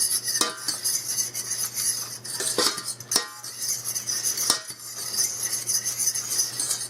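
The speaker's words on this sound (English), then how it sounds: "stir it around in there, get this thing moving." A spoon stirs cheeseburger potato casserole ingredients in a metal pan, making close, repeated clinks and scrapes over a low, steady hum.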